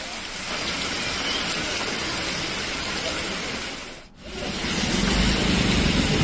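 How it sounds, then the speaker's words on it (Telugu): Heavy rain pours across the city of Hyderabad, a dense, continuous roar of falling water with a brief dip partway through before swelling louder again. "సిటీలోని పలు ప్రాంతాల్లో వాన కురుస్తోంది."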